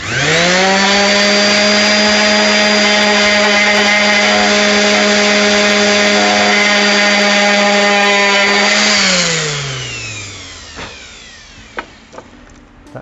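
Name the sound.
random orbital sander sanding wood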